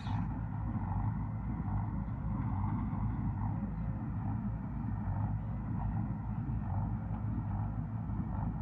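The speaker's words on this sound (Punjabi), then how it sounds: "ਵਧੀਆ ਤੁਰਿਆ ਜਾਂਦਾ ਇਹ ਵੀ ਟਰੈਕਟਰ" A steady, loud diesel tractor engine drones and rumbles continuously with a heavy low throb in a field, close by, with no voices over it.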